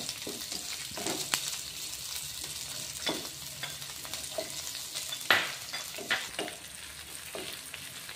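Onion fries with garlic and green chilli in a pan, a quiet steady sizzle punctuated by soft scraping strokes of stirring.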